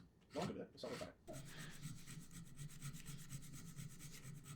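A hand file rasps back and forth against a Damascus steel knife spring held in a file guide, quick even strokes at close range after a couple of louder scrapes at the start.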